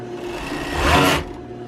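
A sewing machine stitches fabric squares together for a patchwork doll blanket, a short close whirring run that swells and then stops abruptly.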